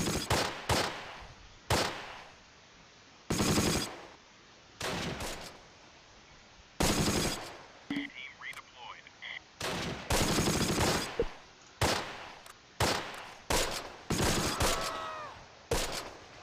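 A .30 cal machine gun in Close Combat: Last Stand Arnhem fires repeated loud bursts in an uneven rhythm, mixed with other distant gunfire and battlefield crackle across a wartime skirmish.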